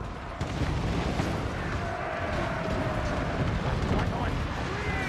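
In Total War: Warhammer 2, mortar air-burst explosions rumble as a dense, continuous barrage of booms and crackling blasts mixed with battle noise, with a player talking over it.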